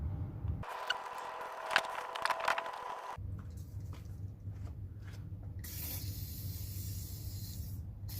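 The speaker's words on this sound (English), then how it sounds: "I like to spray WD-40 on those." WD-40 lubricant is sprayed onto window regulator parts of a 13-year-old Lancer EX, heard as short hissing aerosol bursts close to the microphone amid some handling noise.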